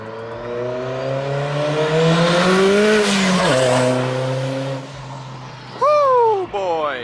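A Dodge SRT-4 roars up close with rising engine harmonics, peaks as it passes, then drops in pitch and fades, followed by a sharp high whine or chirp near the end.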